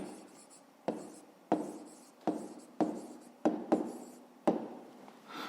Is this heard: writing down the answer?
yes